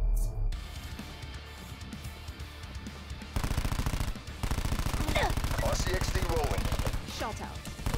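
Rapid automatic gunfire from a low-recoil gun in Call of Duty Black Ops 4 starts partway through and hammers in a steady, fast rhythm, loud and close over game ambience, with faint voices.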